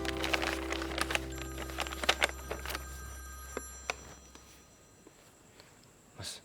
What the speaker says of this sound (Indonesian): Saya angkat telepon dulu, penting soalnya.